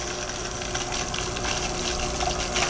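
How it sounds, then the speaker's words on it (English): A small water pump draws water up into a tube in a groundwater model setup, giving a steady gurgling, sucking hiss that runs throughout without pause. "It's going to make a sucking sound for a little while until it pulls water up into the tube."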